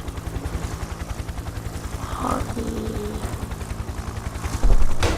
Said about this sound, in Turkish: bu helikopter uçuyor